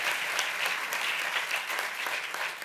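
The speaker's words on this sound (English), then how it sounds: "that deserves a round of applause." Steady applause from an audience at a global health initiative event on reproductive and maternal health, a dense, even wash of clapping that holds at a moderate level for the whole stretch with no voices.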